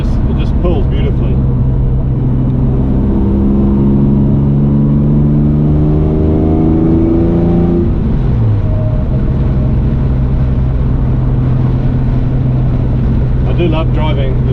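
A Series 1 Jaguar E-Type with a long stainless steel exhaust drives along, its engine note climbing through revs before easing and settling into a steady, loud, close drone, with speech over it.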